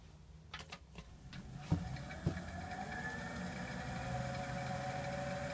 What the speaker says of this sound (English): with a sharpened bowl gouge and your face shield on, let's get this round